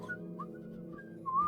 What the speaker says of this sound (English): The cough is followed by whistling,